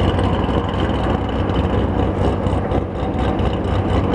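Loud motorcycle exhaust on a city ride, a dense continuous engine roar and rumble that stays close and heavy for the whole span.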